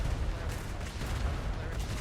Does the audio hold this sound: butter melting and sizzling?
no